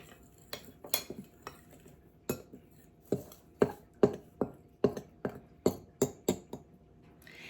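A utensil clinks and scrapes rhythmically against a bowl while mixing dry biscuit ingredients such as baking soda and cream of tartar, a run of close, sharp taps roughly every half second with no speech.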